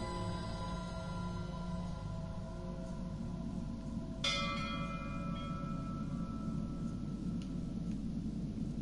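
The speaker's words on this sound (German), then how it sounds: "Kann ja lange an der Glocke läuten." A bell struck once in the game Layers of Fear 2 rings out bright and sharp, then fades over a low steady rumble, with a faint second ping later.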